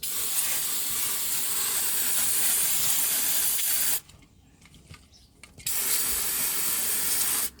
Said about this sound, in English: I'm just going to go ahead and unload basically this whole can here.